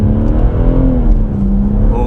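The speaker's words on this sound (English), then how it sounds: "Just give it a little bit of acceleration." A BMW M140i pulls away under light throttle in manual sport mode, its engine note rising smoothly in a loud, close, droning growl heard from inside the cabin.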